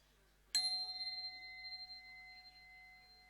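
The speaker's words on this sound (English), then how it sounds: "I'm going to ring my own bell here." A single bell is struck once, then rings out with a long, steady shimmering sustain that slowly fades over several seconds.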